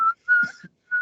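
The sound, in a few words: imitated whistle from a hip hop song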